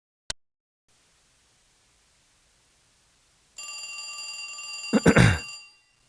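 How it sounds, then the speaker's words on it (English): A telephone rings in the PC adventure game J. B. Harold: Blue Chicago Blues: a short click, a few seconds of quiet hiss, then a loud electronic bell tone with a brief burst of louder ringing near the end. "Answer the phone."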